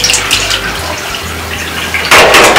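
Water sprays steadily from a hotel shower head, a continuous hiss that surges louder near the end.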